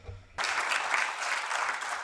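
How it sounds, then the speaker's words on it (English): A brief burst of steady clapping from an audience at a political debate event starts suddenly and continues evenly, moderately loud in a large room. "maybe short round of applause for him"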